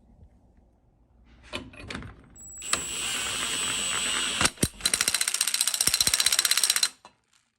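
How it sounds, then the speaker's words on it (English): An old Milwaukee 1/2-inch drive impact tool runs up on lug nuts to pull wheel studs into a Dana 60 front axle, with loud sustained whirring and a rapid hammering rattle, close and alone, plus a few clanks before it starts. "I'm going to use the old 1/2-inch drive Milwaukee."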